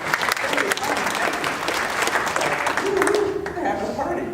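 Church congregation applauding in a steady, dense round of clapping that holds for several seconds before thinning out, with a voice speaking over the end.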